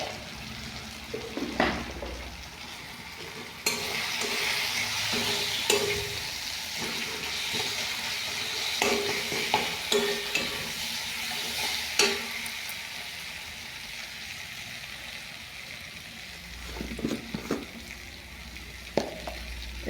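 Cauliflower and katla fish sautéing with spices and chilli powder in a pan, a steady sizzle with scattered scraping stirs and occasional sharper clinks, moderately close and without talk.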